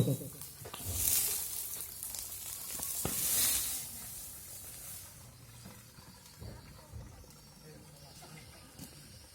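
Soft sizzling and hissing from a frying pan with fire in it being covered with a lid, with a couple of brief louder bursts and clanks early on, then a quieter crackle continuing.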